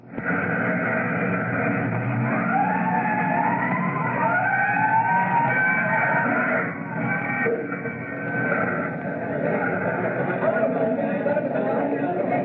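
Fire truck siren wails through a busy old time radio drama scene, its rising and falling tones running continuously under crowd noise and background voices, loud and close throughout.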